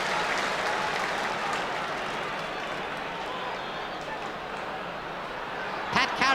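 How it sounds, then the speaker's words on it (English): Crowd applause at the 1984 All-Ireland Hurling Final between Cork and Offaly as a player leaves the field, a steady wash of clapping from a large stadium crowd, sustained throughout with a brief swell near the end. "Brendan coming off the field here to a round of applause."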